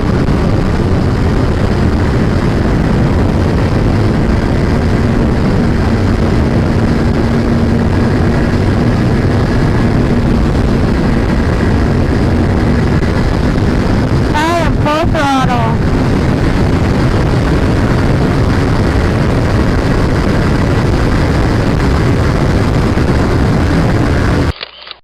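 A Honda CBR500R motorcycle held at full throttle produces a loud, sustained engine drone with heavy wind rush for the whole stretch, and a short rising whine partway through.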